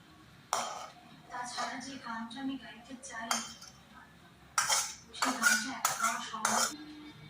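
Tangra fish curry with potato and eggplant being served from a pot, metal spoon and pan clinks and scrapes in uneven bursts close by, with a voice speaking between them.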